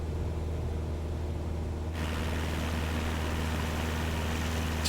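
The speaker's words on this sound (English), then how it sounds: "we've got that wind noise and the way it sounds" Inside a Cessna cockpit in Microsoft Flight Simulator 2020, steady rushing wind noise rides over a low engine rumble, the airflow hiss swelling noticeably louder partway through and holding there, with no talking.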